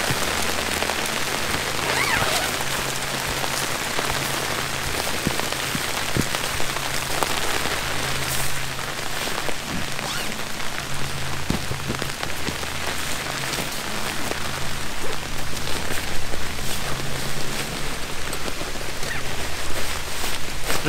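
Steady rain patters on a tent at a backcountry campsite on the Ottawa River, a dense, continuous hiss of drops, close and fairly loud throughout, with no one talking.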